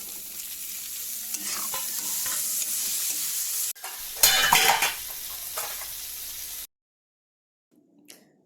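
Tomatoes fry in a pan for a Khasi dry fish dish, a close sizzle with utensil scrapes that swells into a loud burst when stirred, then cuts to near silence with a faint clink.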